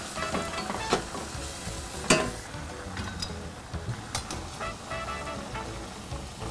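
Pasta and asparagus tossed in a pan, with a steady sizzle of cooking food beneath scattered scraping and clattering bursts, one sharper jolt near the middle as the pan is shaken.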